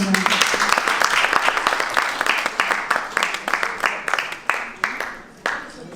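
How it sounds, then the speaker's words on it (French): An audience at an award ceremony in the French Senate claps steadily in dense, close applause that thins gradually toward the end, with faint voices underneath. "On l'applaudit quand même."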